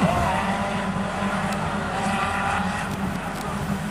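Fender Bender race cars roar at the start of a feature race at Rockhampton Speedway, a loud, continuous wash of engines and tire noise from a packed field.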